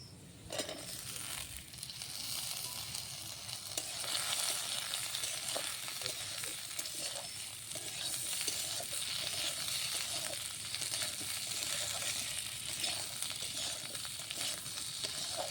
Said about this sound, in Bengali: কেটে রাখা আলুগুলো দিয়ে ভালো করে ভেজে নেব